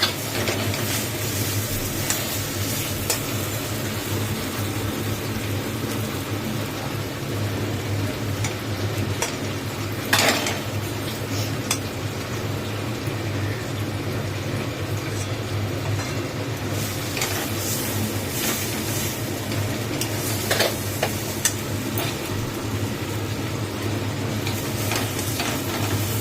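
Food frying and being stirred in a small amount of oil in a pan, giving a steady, close sizzle with scraping stirs throughout and no talking.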